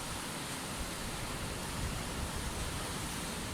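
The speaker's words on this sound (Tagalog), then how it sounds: "ang lalaki, ang bagsak ng alon" Large, rough sea waves churn around a small fishing boat, making a continuous, even roar of surf with no distinct separate crashes and no voices.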